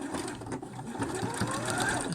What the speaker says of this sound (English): So I'm just going to stitch in the ditch again